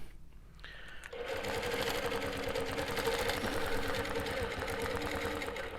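A longarm quilting machine doing ruler work starts up after a brief quiet moment, then stitches steadily with a fast, even mechanical chatter that stays loud and close.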